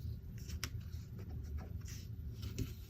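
Close, quiet rubbing and scratching as vinyl transfer tape is pressed down onto a whiteboard eraser, a continuous dry scraping with a few sharper scuffs and no speech.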